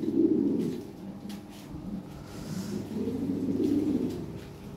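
Pigeons kept for sale coo steadily in low, throaty phrases, swelling and fading across the stretch with no talk over them.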